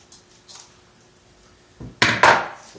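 A metal strip for a cyclekart wheel rim being cut through, heard after a quiet stretch as a couple of loud, close, harsh bursts of cutting noise.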